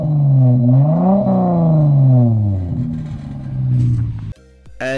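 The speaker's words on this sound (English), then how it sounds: "the previous owner installed a Pypes Street Pro Catback exhaust, and honestly, I just love the way it sounds" A Dodge Challenger SXT with a Pypes Street Pro catback exhaust revs up, its engine note rising and falling in a loud, close sweep before cutting off abruptly near the end.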